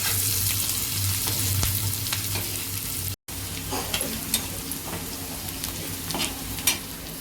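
Onion frying in a pan for besan curry (pithla), a steady close sizzle with occasional stirring clinks, briefly cut off midway.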